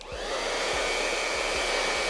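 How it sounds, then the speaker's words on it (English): A hair dryer blows steadily and loudly nearby, a constant rushing whoosh with a few soft low thumps underneath. "take your dryer and just dry it down"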